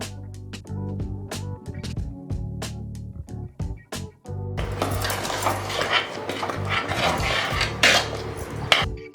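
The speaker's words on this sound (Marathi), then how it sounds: "जोपर्यंत घट्ट होत नाही ना तोपर्यंत हलवत राहायचं." A thick jaggery and lentil puran mixture is stirred in a metal pan, with repeated sharp scraping and clanking of the spoon against the pan, loud and close, giving way to a denser sizzling, scraping clatter partway through.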